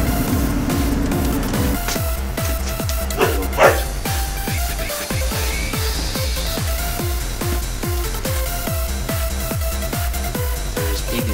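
Dogs bark in a fast, regular series of sharp woofs lasting over ten seconds, loud and close, with a brief higher yelp partway through.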